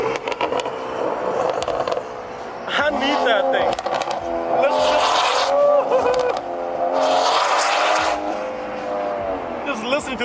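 A BMW E46 drift car revs hard with rising and falling engine pitch and squealing tires, loud and close, in repeated bursts with pauses between.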